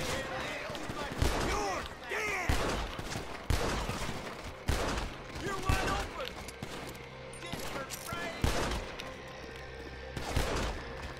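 Gunfire in the Red Dead Redemption 2 video game, repeated sharp shots spaced a second or two apart, mixed with game noise and someone talking over them.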